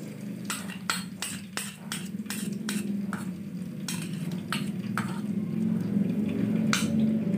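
Eggs dropped into a pan of garlic for egg fried rice, with a rhythmic series of sharp metal spatula scrapes and taps over a low steady sizzle, close and continuous, with no talking.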